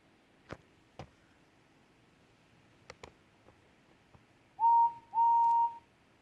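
Steam engine Henry sounds his whistle at a station: two short, clear blasts close together near the end, after quiet scattered ticks.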